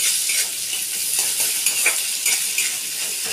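Ginger paste, garlic paste and bay leaf sizzling in hot oil in a pan while being stirred, a steady bright hiss with light scraping strokes of the spoon, close and continuous, no talking.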